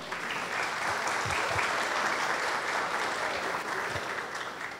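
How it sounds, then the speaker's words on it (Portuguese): An audience at a civic project exhibition evening gives a city councillor a steady round of applause, dense clapping heard at moderate distance, alone without voices. "Vamos recebê-lo com uma salva de palmas."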